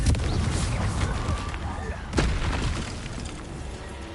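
A Confringo fire spell blast erupts in Hogwarts Legacy with a sharp booming burst followed by a rumbling tail, set amid ongoing combat effects and a spoken incantation.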